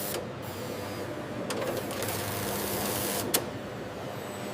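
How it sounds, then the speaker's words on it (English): Automated cutting machines slice sports jersey fabric on a factory floor, giving a steady mechanical whir and hum that holds throughout, with a few sharp clicks breaking through. "Computer-controlled machines cut precise shapes."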